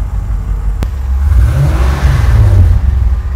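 A broken LS-swapped Chevy Nova's engine is started and revs up, a loud, close, rough idle that rises into a growling rev and holds there, with no one talking over it.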